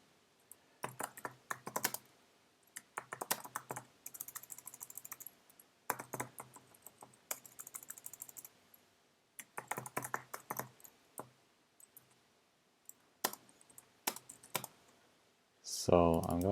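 Bursts of typing on a computer keyboard, with rapid clicking keystrokes in several short runs separated by pauses, close and moderately loud, ending with a louder brief noise.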